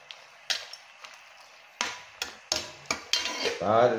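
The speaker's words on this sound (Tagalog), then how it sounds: "Haluin lang natin." Stirring adobong isaw with ginger in a pan: a series of close metallic scrapes and clinks of a utensil against the pan, irregular strokes, ending in a sizzling swish.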